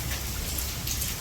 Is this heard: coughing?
no